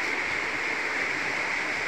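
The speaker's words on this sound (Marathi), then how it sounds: "पाऊस भरपूर आहे आणि पाणी पण भरपूर आहे." Heavy rain and flowing water, a steady, even hiss and rush that holds constant and moderately faint throughout the brief stretch.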